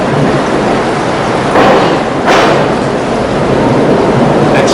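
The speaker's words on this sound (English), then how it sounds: "there's trains passing over" A train rumbles across a crossing overhead, heard from an underground river tunnel below, with a steady heavy roar and two brief louder surges as carriages pass.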